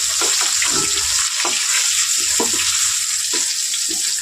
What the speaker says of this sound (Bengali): বড় বড় এটাও ভেজে নেব